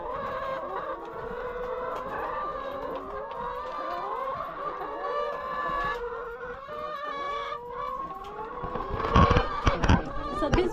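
Chickens on a small poultry farm cluck and crow steadily in close, overlapping calls, growing louder and busier toward the end, with a little background voice.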